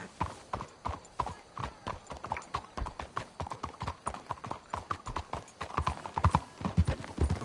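Rapid clip-clop of horse hooves in a Western video game, a brisk continuous trotting rhythm, fairly close and steady, quickening slightly toward the end with no talk over it.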